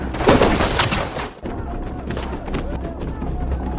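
Gunfire from a sniper in the 2011 Indonesian action film The Raid: Redemption. A loud, dense burst fills the first second, then it falls away into a lower, steady rumble of action-scene noise.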